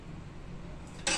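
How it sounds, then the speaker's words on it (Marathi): Urad dal ghut, a spicy Satara-style lentil curry, poured into hot tempering in a kitchen. After a quiet stretch a short, bright sizzle bursts out near the end. "आता आपण घुटं फोडणीला टाकतो"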